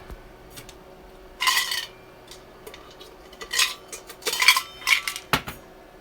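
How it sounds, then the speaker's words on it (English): A stainless steel cup clinks and knocks repeatedly against hard surfaces in a quiet room, several sharp metallic taps in irregular clusters, fairly close and loud, with no talk. "my cup is stainless steel, so it's quite loud"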